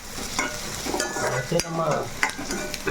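Onions frying in a pan give a continuous close sizzle, with a few scraping stirs and clinks of a utensil breaking through at intervals.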